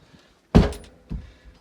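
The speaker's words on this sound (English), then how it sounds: "Close the door" A door swings shut with a solid thunk, followed by a softer second knock about half a second later, close by in a quiet room.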